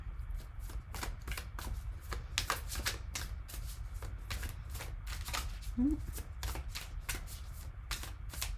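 Tarot and oracle cards being shuffled by hand in quick repeated riffles and flicks, close and soft, in a steady irregular rhythm with faint low background hum.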